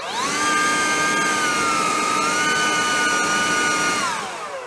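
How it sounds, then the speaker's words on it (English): DeWalt DCBL720 20V cordless leaf blower spins up to a steady high-pitched electric whine with a rushing airflow, holds close and loud, then winds down at the end. "we'll just do that with the 20 volt blower and see where we get."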